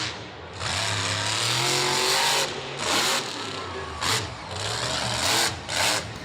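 The Exterminator monster truck at Monster Jam Jacksonville roars close and loud, with rising and falling revs, pitch sweeping up through the gears, then several short throttle blips separated by brief pauses.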